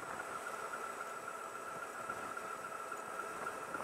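A Zero SR/S electric motorcycle on the move, giving a thin steady high-pitched motor whine over a low, faint rush of road and wind noise.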